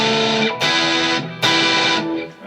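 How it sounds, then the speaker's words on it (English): An electric guitar plays bar chords through distortion, three loud, sustained, buzzing strums a little under a second apart, heard alone. "Some bar chords actually sound pretty good with distortion, but some really don't."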